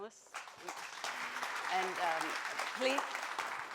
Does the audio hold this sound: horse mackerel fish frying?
no